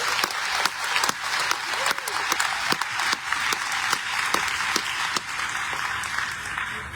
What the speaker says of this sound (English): let's give all the members of the Commission and the staff a round of applause